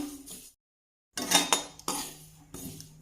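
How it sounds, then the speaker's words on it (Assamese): A metal spatula clinks and scrapes against a kadai as spices for green chilli pickle are stirred dry, in separate bursts broken by a short silent pause. "এনেকৈ অলপ দেৰি লৰাই লওঁ, তেতিয়া সেমেকা ভাপটো আঁতৰিব"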